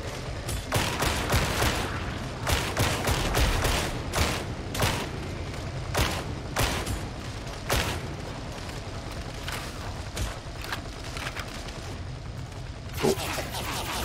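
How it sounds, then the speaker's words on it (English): Gunfire in the video game Warhammer 40K: Darktide, repeated sharp shots and bursts in an uneven rhythm over a constant rumbling backdrop, with a voice talking at times between them. "We need to shoot. Shoot while suppressed."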